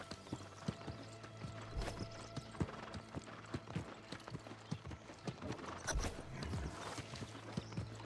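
Horse hooves clip-clop steadily at a walking pace in a video game, fairly quiet and even, with a faint low background hum and no talking.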